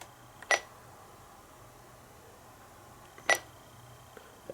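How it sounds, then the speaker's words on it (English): Two short, high-pitched beeps from a radio as its buttons are pressed, spaced a few seconds apart against a quiet background. "high-pitched beep while pressing the buttons as well"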